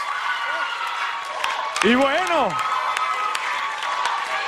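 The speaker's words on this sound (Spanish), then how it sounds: "fuerte el aplauso para Sofía" A television studio audience applauds and cheers after a samba dance performance, a steady wash of clapping and crowd noise heard under a host's speech and shouts.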